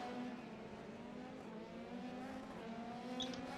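F4 race car in a Homestead racing simulator spinning its cold rear tires on the first lap, a faint, steady engine drone with a sustained tonal whine and light tire noise, with no voices.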